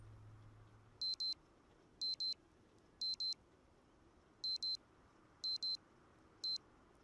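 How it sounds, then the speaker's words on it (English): In the Project Zomboid video game, an alarm chirps in paired electronic beeps, six bursts spaced about a second apart, crisp and high over a faint, quiet background hum. "I am so sick of hearing the alarms."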